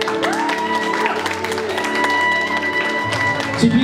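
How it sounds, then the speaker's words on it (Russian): Applause from guests at a wedding registration ceremony, dense clapping under a steady background hum, with tonal music-like lines and brief voices mixed in throughout. "Звучат аплодисменты."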